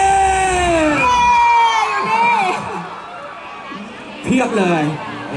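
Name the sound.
festival crowd cheering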